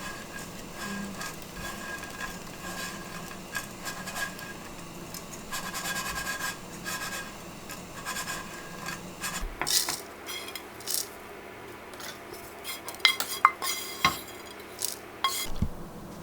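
Shredded dried squid stir-fried in a pan, with a steady scraping and rubbing of utensil against metal and sharper clinks growing louder toward the end, close and without talk.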